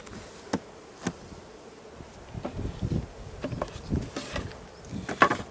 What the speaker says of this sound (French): Je fais tomber les abeilles pour pas les écraser.